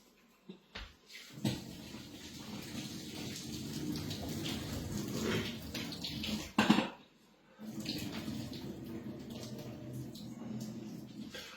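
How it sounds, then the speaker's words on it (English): Cooked pasta for a pasta bake is drained, and a steady broadband rush of pouring water runs for about eleven seconds. It breaks briefly for a louder clatter near the middle, then resumes. "gonna now drain the pasta"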